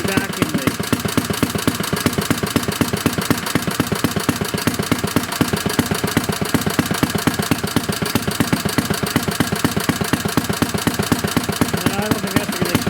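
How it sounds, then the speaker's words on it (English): A 1937 Briggs and Stratton Model A small engine idles steadily up close, its fast even pulsing chug continuing without a break for the whole stretch. "we've had this engine running for almost a solid 45 minutes without any issues"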